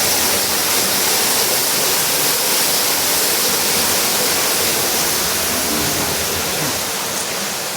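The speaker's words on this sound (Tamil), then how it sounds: "இதை சுற்றி விட்டு வெளியில் தண்ணி வரும்" Water gushing from a spinning playground water feature at an outdoor play area in Qatar, a steady loud broadband rush that carries on unbroken, close by and with no voices over it.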